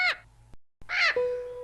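A cartoon crow caws twice, with two sharp, close, nasal calls separated by a brief pause. The second call is followed by a thin sustained tone.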